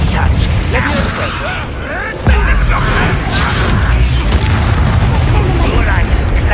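In the game Hogwarts Legacy, the Confringo spell sets off a sudden loud booming explosion midway, after which dense rumbling and crackling combat noise continues under scattered higher effects.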